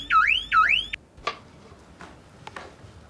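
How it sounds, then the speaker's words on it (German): An electronic alarm system wails in two loud rising-and-falling electronic sweeps, then cuts off, followed by a few faint clicks and taps in a quiet room. "Ich baue eine Alarmanlage ein."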